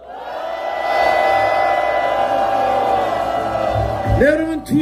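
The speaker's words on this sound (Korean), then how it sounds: "함성 3초간 시작" A large crowd at an outdoor Korean peace rally roars in a sustained, loud cheer of shouts and whoops for several seconds, then fades as a few voices trail off.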